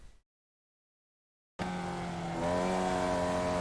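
Onboard a Formula Vee race car at Jefferson Circuit, a steady engine drone cuts in abruptly after a moment of silence and grows slightly louder as the car slides on the track, close and continuous.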